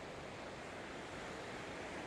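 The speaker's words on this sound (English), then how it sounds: "I'm actually at another waterfall" Steady roar of falling water at Paddy's River Falls near Tumbarumba, New South Wales, a dense, unbroken rushing wash heard from nearby with no other sounds.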